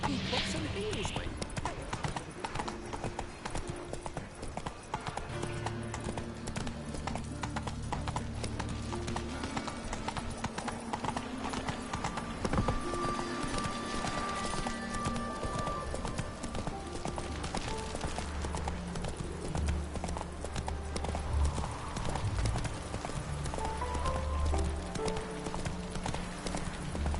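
Hooves of the horse Roach clip-clop steadily at a gallop through the Witcher 3 video game, a continuous rhythmic patter under game music and a talking voice.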